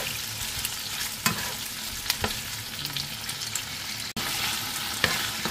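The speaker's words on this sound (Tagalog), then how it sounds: "Nagluluto ako ng spring roll" Spring rolls frying in hot oil give a steady close sizzle with occasional sharp pops and crackles, no talking.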